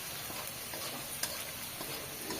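Onions fry in oil in a pan in a home kitchen, a soft, even sizzle that stays faint and steady throughout, with a faint tick or two.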